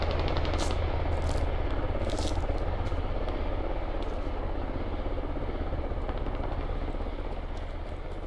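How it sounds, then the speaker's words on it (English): Black Hawk helicopter in a video game, carrying a full squad away from Iraqi hangars, gives a steady low rotor drone that holds loud for the whole stretch, with a few sharp crackles like distant gunfire cutting through. "There's an enemy Black Hawk with a full squad leaving Iraqi hangars now."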